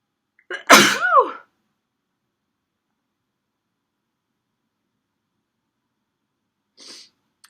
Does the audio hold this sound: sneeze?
yes